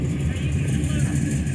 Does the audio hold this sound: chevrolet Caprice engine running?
yes